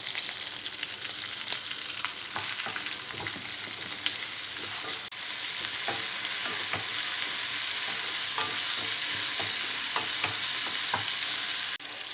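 Tomato pieces and turmeric fry in a pan of hot oil, giving a continuous bright sizzle that swells louder partway through, dotted with the clicks and scrapes of a spoon stirring.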